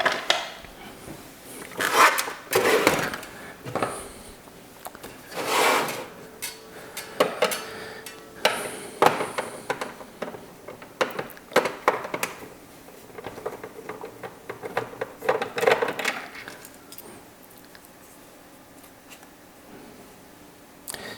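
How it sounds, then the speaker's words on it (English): Screws being removed and plastic casing pieces handled while opening an Omnibot 5402 toy robot, with irregular close clicks, scrapes and rattles coming in bursts across the clip, no talking. "let's open up the robot itself and see if we can find any more clues inside there"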